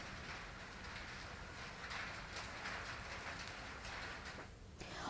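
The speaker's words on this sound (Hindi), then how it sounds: "जहां बारिश के साथ ओले भी गिरे हैं।" Rain mixed with hail falls steadily over open farmland with wheat fields, a dense broadband hiss with faint scattered patter and no voices.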